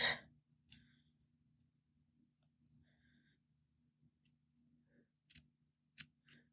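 Small scissors snip little V cuts into a tiny folded square of green crepe paper, a few quiet, sharp clicks spaced apart over a faint background.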